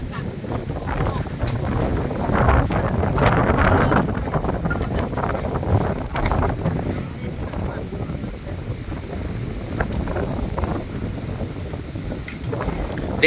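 Strong wind from a cold rainstorm roars and buffets outdoors in gusts, rushing against the microphone, with a voice talking intermittently.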